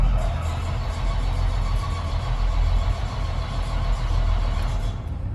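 A farm machine's engine, primed with fuel during soybean harvest, cranks and runs at a steady, continuous level for several seconds with a low rumbling drone close by and no one talking.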